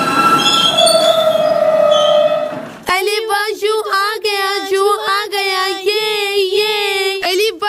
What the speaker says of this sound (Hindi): यह है मुंबई की लोकल ट्रेन।